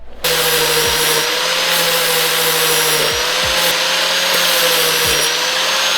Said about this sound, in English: We're going to be grinding it all away, so there's going to be a lot of swarf and metal.